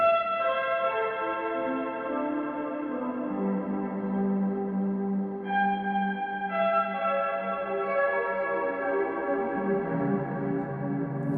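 Guitar run through a Crazy Tube Circuits pedal producing a haunting arpeggio effect, sustained shimmering cascading tones with echo and chorus, steady and close, with no talking.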